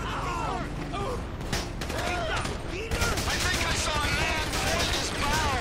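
Dense gunfire from GTA V gameplay, with rapid bursts and scattered shots layered over continuous game noise for several seconds; a player's voice talks over the action.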